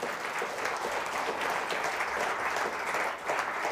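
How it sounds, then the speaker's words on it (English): Congregation at a Good Friday church service gives a continuous round of hand clapping, a dense, even roar of many hands at moderate loudness with no break. "is that hand clap for me or for Jesus Christ?"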